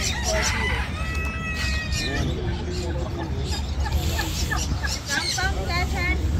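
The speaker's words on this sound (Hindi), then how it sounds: "ये टर्की है." Turkey and other fowl calling at a bird and animal market in Sharjah, busy crowing and clucking amid crowd noise, with people talking throughout.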